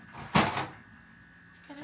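A refrigerator's vegetable drawer opens with a short, close thump and sliding rattle, followed by quiet and a faint second knock.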